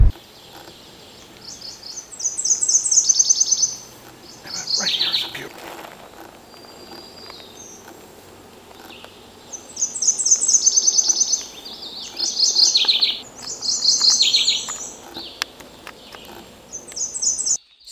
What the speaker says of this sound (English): that is another mourning warbler